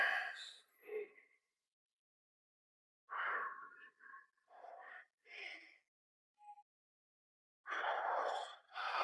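Heavy, ragged breaths after a strength-training set, coming in several loud bursts of panting and gasping separated by short pauses, close to the microphone.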